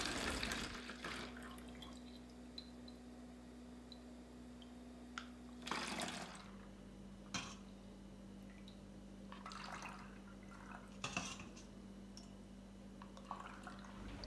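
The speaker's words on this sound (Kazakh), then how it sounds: "Енді тым толтырмай, баклажканың аузынан 2 сантиметрдегі орын қалдырып, уыздың сүтін құйып шығамын." Colostrum milk being poured into plastic bottles gives a soft, faint trickle with scattered drips and a few louder splashy bursts, heard alone at low level with no talking.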